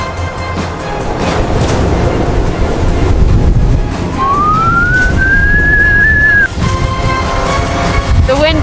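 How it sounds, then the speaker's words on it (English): Strong wind roars across a high Everest ridge, loud and buffeting the microphone, with a rising whistle-like tone partway through. "The wind just shifted."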